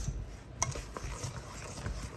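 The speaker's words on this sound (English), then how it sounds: "So here are all of the wet ingredients in the dry ingredient bowl, and I've started to mix them together" A wooden spoon stirs pumpkin bread batter, wet ingredients folded into dry ones in a bowl, with soft thick scraping and occasional knocks against the bowl, close and fairly quiet.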